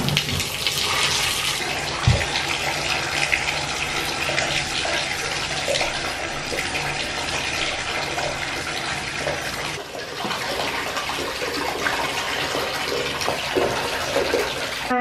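A bathtub filling with water in a newly moved-into home, a steady rushing flow from the tap that stays loud and continuous throughout, with a brief knock near the start.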